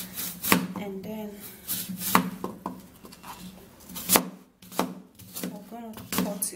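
A knife chops through an apple on a cutting board in a series of sharp, close cuts and taps, irregularly spaced, with a person talking in between.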